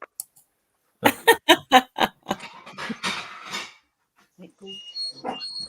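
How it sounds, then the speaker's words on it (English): Dogs scrambling around a room, with a burst of four or five loud, fast scuffs and thumps followed by scattered scrabbling, snuffling and faint whines, near the listener with no speech. "that's the dogs actually trying to run around now because I'm actually standing out in their track, trying to get me out the way"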